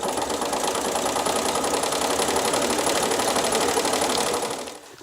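A sewing machine runs at a quick, steady pace while stitching crochet-look edging, its rapid mechanical chatter continuous and close before winding down to a stop at the end.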